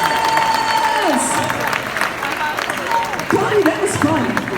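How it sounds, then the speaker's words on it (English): A charity auction crowd claps and cheers for generous bidders, lively applause mixed with scattered voices and a few whoops, fairly close and loud for a few seconds. "Can we give our generous bidders a huge round of applause?"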